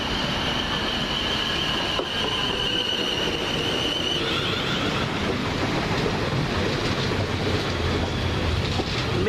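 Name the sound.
South West Trains 12-coach Class 450 train arriving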